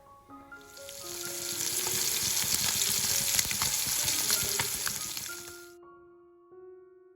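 Food fries in hot oil in a pan with a loud, steady sizzle that builds and then fades out near the end, with quiet music underneath and no voices.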